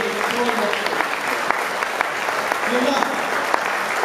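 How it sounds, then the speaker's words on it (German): Audience applause at a boxing championship final ceremony in a hall, with steady clapping and scattered cheers throughout while a voice speaks over it. "nochmal, ihr Applaus für die beiden jungen Damen"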